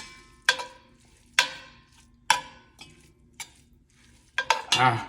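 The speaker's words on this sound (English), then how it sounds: "So there go the onions in" Onions are stirred into a pot of sweet and heat chili: a handful of separate scraping, sizzling strokes land roughly once a second, close up, with a flurry of quick strokes at the end. No talk.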